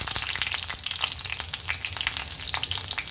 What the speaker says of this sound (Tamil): எண்ணெய் சூடானதுக்கப்புறம் இதில் 2 கிராம்பு, 1 ஏலக்காய் போட்டுக்கிறேன், 1 பச்சை மிளகாய்